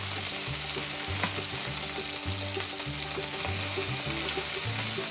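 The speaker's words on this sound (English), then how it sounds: "we're going to get our wok" Vegetables stir-frying in a wok with a honey sauce, a constant hiss and crackle broken by a steady rhythm of spatula scrapes and tosses, close and clear with no voices.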